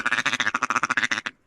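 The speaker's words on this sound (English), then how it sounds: "There's the basic quack." A duck call blown nearby gives a rapid string of about ten loud, nasal quacks in steady rhythm, ending abruptly in silence.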